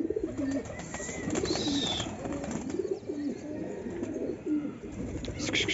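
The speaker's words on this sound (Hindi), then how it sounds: "सारे कबूतर जो है खा रहे हैं अपने।" Pigeons coo repeatedly while feeding outdoors during rain, their soft, throaty calls close and overlapping above a steady wash of background noise.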